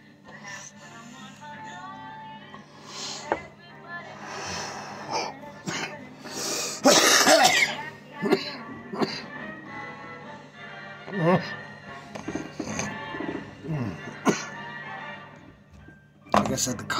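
Several rough, harsh coughs break out among stretches of a person talking, one burst louder and more forceful than the rest.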